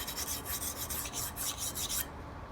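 Rhythmic rasping strokes of a Cold Steel Broken Skull knife edge being ground across a sharpening stone for stock removal, loud and close, repeating quickly for about two seconds before stopping.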